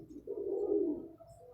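A pigeon coos in a low, soft, rolling call that swells and fades over about a second, close by with faint background noise.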